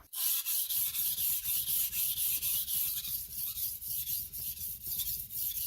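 A Japanese gyuto chef's knife is sharpened on a whetstone, stroke after stroke in a steady rhythm of gritty scraping passes, close and clear, with no voices.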